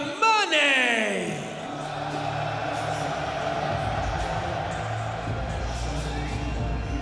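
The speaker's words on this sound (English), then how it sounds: "You heard the pop from the French crowd." A French crowd at a PFL Europe fight event roars and cheers for fighter Ibrahim Amane, a sharp announcer-like shout at the start giving way to a sustained, loud arena din that stays steady throughout.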